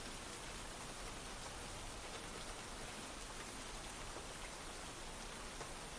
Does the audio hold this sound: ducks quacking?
no